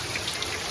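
Heavy rain falling outside during Ganesh Chaturthi season, a brief continuous hiss of downpour with faint drip-like accents, steady and moderately loud without voices.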